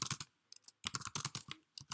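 Quick, light keystrokes on a computer keyboard come in short irregular bursts with brief pauses between them, close and quiet with no voices.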